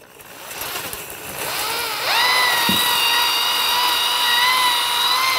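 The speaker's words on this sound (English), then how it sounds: "So go ahead and pre-start the drill." A power drill spins a cylinder hone inside a Volkswagen Beetle engine cylinder, a steady high whirring grind that rises and holds evenly for several seconds, close and loud with no talking.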